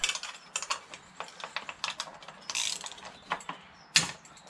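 A ratchet clicks in quick irregular bursts while winding out exhaust heat shield bolts on a Honda VFR800, close and crisp, with short pauses between runs.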